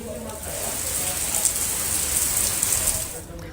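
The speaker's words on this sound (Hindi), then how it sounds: "लखीसराय में आज सुबह से ही लगातार तेज बारिश हो रही है" Heavy, steady rain pouring down in Lakhisarai, a dense continuous hiss lasting throughout at an even, loud level with no pauses.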